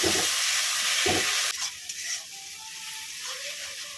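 Onion, ginger and chilli pastes with chopped tomato hit hot oil for rohu fish kalia, giving a loud steady sizzle that drops after a sudden splash-like shift into a softer crackling fry with faint stirring.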